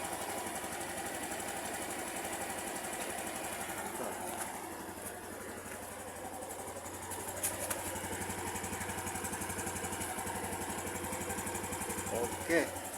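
A Honda BeAT Street scooter engine idles steadily with a constant low mechanical hum and faint ticking, recorded quietly from close by with a few small knocks near the end.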